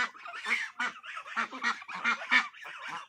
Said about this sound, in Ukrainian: Тепер троє качнят, троє гусенят